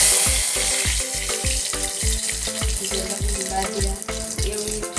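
Mustard seeds, cumin and curry leaves crackle and sizzle in hot oil for a Gujarati bottle gourd and chana dal curry, a dense, steady fry with rapid repeated pops close by and no talking.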